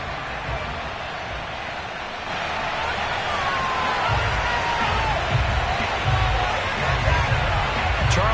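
A large football stadium crowd at FedEx Field roars in a steady, dense wash of cheering and babble before a Falcons game, swelling slightly louder partway through with scattered whoops.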